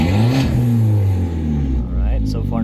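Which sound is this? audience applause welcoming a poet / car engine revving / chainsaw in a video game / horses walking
car engine revving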